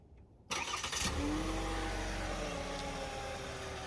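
A 2021 Cadillac XT5 Luxury starts by remote start after a quiet pause: a sharp crank and catch, then a brief rev that settles into a steady, even idle nearby.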